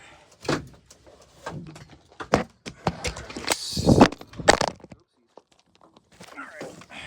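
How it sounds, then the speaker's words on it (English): A van door opens with a few thuds, clunks and a sliding rattle, mixed with footsteps and handling noise nearby, then it goes quiet. "Let me actually open up the van door here"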